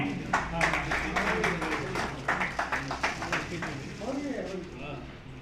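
Audience clapping at an award ceremony in a community hall: a burst of many hands applauding in quick rhythmic claps that rises and then thins out, while an announcer speaks over the top.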